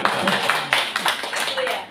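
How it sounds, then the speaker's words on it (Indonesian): Applause after a presentation: a short burst of scattered hand clapping from a small audience, with talking mixed in. "Oke, tepuk tangan dulu."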